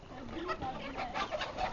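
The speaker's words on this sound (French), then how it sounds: "Il est en train d'attraper une poule pour qu'on puisse la déguster." A hen clucks in a field while someone tries to catch her, giving a string of faint, uneven clucks and squawks under quiet background voices outdoors.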